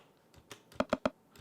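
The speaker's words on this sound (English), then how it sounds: "And then we have another percussion here, which is basically clave" Distorted clave percussion sample in an ambient dub techno track, a few soft taps followed by three sharp, bright, evenly spaced hits with a ringing tonal edge, then a fainter tap; no voices.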